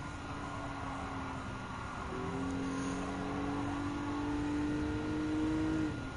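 A 2002 Honda NSX Type R racing in Gran Turismo 7, its engine a steady sustained drone that climbs gradually in pitch as it accelerates, close and continuous with no talk.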